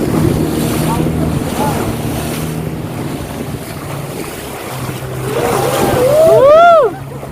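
A boat crosses choppy sea waves at Ciletuh under strong wind, with a continuous rumble of motor, water and wind buffeting the microphone, and brief voices rising near the end.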